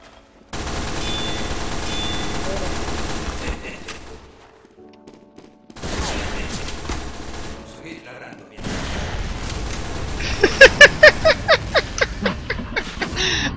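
Gunfire in Team Fortress Minecraft, bursts of rapid shots and booms separated by a short lull, ending in a loud quick run of sharp cracks.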